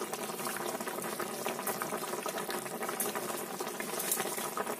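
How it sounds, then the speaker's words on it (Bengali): A fish curry boils in a pan, bubbling and popping steadily and close up throughout, with no voices. "এটা আগে ফুটে যাক, ঢাকা দিয়ে 5 মিনিট রেখে দেবো।"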